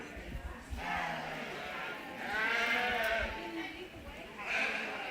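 Purebred Dorset ewe lambs bleat repeatedly at a 4-H/FFA sheep show ring, several overlapping calls rising and falling close by, with a crowd murmuring in the background.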